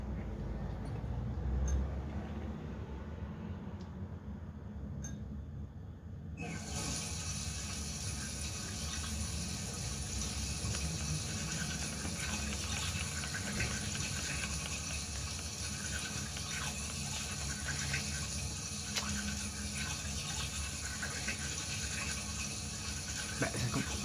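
Steady running tap water rushing into a bathroom sink while brushing teeth in the Heavy Rain video game, a continuous close gush that starts abruptly and keeps flowing without talk.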